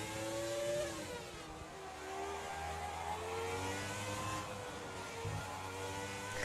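An F1 race car engine in a video game revs on an outlap at historic Monaco, a smooth rising and falling whine with shifting pitch, steady and fairly faint.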